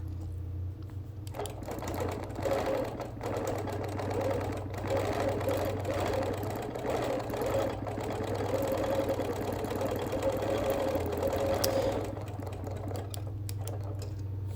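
A computerized sewing machine runs steadily, machine-quilting a wool appliqué quilt, its fast needle chatter continuous and close for the whole stretch over a low motor hum, with faint playground noise behind.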